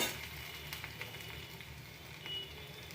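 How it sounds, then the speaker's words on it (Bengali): Potatoes sautéing in a pan give off a soft, steady sizzle and crackle, fairly faint and continuous without talk. "আর এই যে আলু আলু আমার কষানো হচ্ছে"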